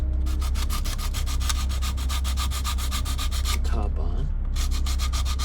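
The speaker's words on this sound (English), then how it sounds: "Now what I'll do is we'll sand it down" Sanding of a wooden part for an OCCRE Flying Dutchman 1:50 scale model ship kit, with rapid rhythmic rasping strokes close up and continuous, briefly pausing near the end; a voice speaks a few words.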